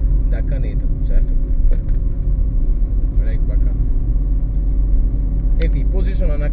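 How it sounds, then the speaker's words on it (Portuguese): Moving car heard from inside the cabin, picked up by a small spy pen camera: a steady, loud low road and engine rumble runs throughout, with brief higher rattles and bursts of noise scattered over it. "Essa é a qualidade de vídeo, áudio, do carro em movimento."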